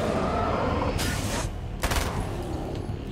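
Rapid submachine-gun fire in a first-person horror video game, two dense bursts over a steady low rumble, each burst loud and close with a sharp broadband crackle lasting about half a second.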